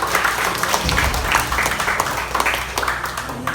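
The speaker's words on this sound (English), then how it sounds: "Clap for TBC" Audience at the TBC Baguio conference clapping together in a steady, dense patter that holds throughout, moderately loud and close, with a faint voice underneath.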